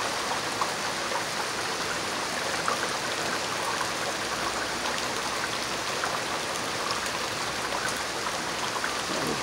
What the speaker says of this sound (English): There's more rain behind this